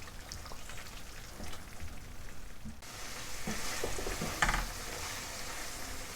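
Prawn karahi masala with fenugreek leaves cooks in a pan, giving a soft, continuous sizzle with scattered crackles and a few faint scraping stirs.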